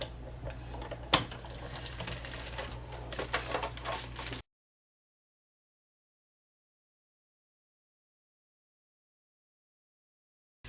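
A die-cutting machine cranks a framelit through cardstock, giving a few seconds of close mechanical whirring and clicking with one sharp knock, then the sound cuts out to silence.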